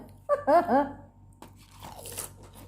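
Crisp bites and crunchy chewing of fried sun-dried beef, a few loud close crunches early on, then softer chewing mixed with a voice.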